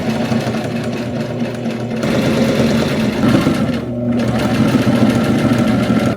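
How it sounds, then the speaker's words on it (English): A sewing machine stitches a leather holiday tote bag, giving a steady, fast mechanical whirring with rhythmic needle clatter and a brief pause near the four-second mark, close and loud with no talk. "It's time to sew the leather bag."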